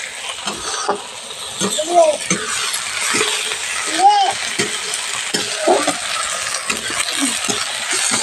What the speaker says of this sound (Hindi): प्याज को हम पका रहे हैं तेल में, फ्राई कर रहे हैं।